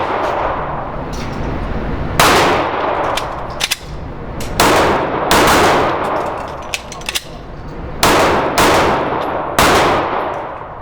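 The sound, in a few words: handgun shots fired during shooting drill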